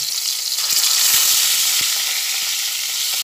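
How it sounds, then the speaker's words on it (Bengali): Pieces of catla fish fry in hot oil in a wok with a close, steady, bright sizzle, punctuated by a few light taps and clicks from handling the pan. "তেলটা গরম হয়ে গেছে, মাছগুলো ভেজে নিচ্ছি।"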